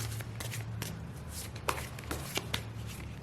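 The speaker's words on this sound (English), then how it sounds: "I feel like shuffling one more time" Tarot cards being shuffled by hand, a run of crisp riffling snaps and soft slaps at an irregular rhythm, close and clear, with no talk.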